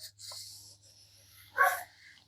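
A blind dog barks at nothing it can see, giving a couple of short, close barks with a soft whine between them in a quiet indoor space.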